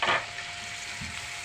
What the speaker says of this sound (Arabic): التومه هي ريحتها طلعت قبل يعني ما تصفر كده، هنزل بالبصل